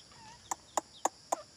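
Chickens cluck in a farmyard with chicks about, four short sharp calls spaced evenly about a quarter second apart, fairly close, over a quiet background.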